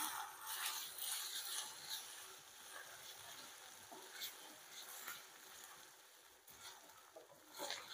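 Grated ginger, crushed green chili paste and finely chopped curry leaves sauté in a hot pan with a soft, steady sizzle and crackle, faint and continuous throughout.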